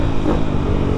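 A modified Yamaha Vixion supermoto motorcycle engine roars close and loud in a brief, steady, rumbling burst.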